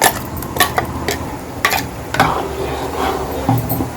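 A grated coconut and cardamom paste stirred into a pot of cooked moong dal for a Janmashtami offering, with a close spoon scraping and clinking against the pot in irregular bursts over a soft simmering sizzle.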